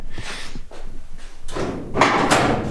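A car door on a 1974 Dodge Challenger under restoration opens with a few scraping, clunking bursts of metal noise. It sounds close, with no talking.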